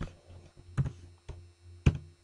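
Sparse keystrokes on a computer keyboard, a few soft clicks then sharper taps at uneven intervals, quiet and close with a faint hum behind.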